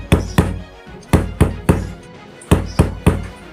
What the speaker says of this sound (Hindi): वह बार बार दरवाजा पीटता रहा।